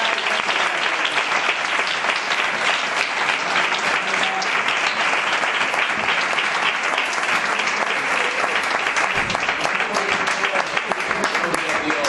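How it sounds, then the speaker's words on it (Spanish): A church congregation bursts into loud, sustained clapping, a dense continuous roar of hands close and full for the whole stretch, with scattered voices mixed into the applause. "Fuerte aplauso con alegría"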